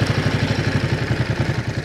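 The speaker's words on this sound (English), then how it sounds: "I'll start it as well in the usual Ducati way" A 2023 Ducati Monster SP motorcycle engine turns over and runs with a lumpy, rapid low pulsing beat, loud and close, steady throughout with no one speaking.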